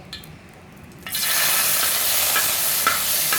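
After a quiet start, a loud, steady sizzle of pork chops frying in hot oil suddenly begins and continues, with faint crackles and pops.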